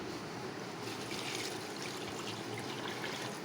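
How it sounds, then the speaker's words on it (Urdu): About a litre of water pours steadily into a cooking pot holding tomatoes, onion, ginger, garlic and green chillies, a continuous soft splashing trickle, fairly quiet and unbroken throughout. "اب میں اس میں ڈالوں گی 1 لیٹر پانی"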